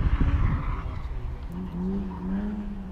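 A McLaren LT runs hard on the Brands Hatch circuit, its engine a loud, continuous roar with a faint tyre-scrub edge throughout.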